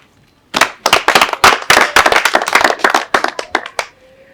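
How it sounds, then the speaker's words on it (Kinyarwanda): Villagers gathered at a community meeting clap together to welcome visiting officials: a sudden burst of sharp, close handclaps that starts after a brief silence, then thins into scattered claps and stops. "Mwiha amashyi."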